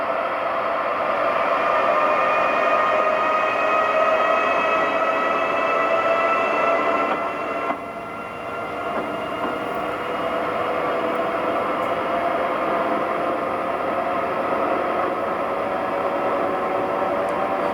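A video game ACS64 Amtrak electric locomotive accelerates, rumbling and whining steadily for a long stretch, a continuous loud mechanical roar with rising tonal hum, dipping briefly midway before resuming.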